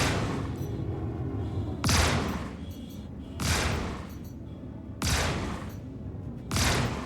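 Spaceship weapon fire in the video game Star Citizen: four heavy, evenly spaced blasts, each a sharp burst with a decaying tail, over a low steady engine hum.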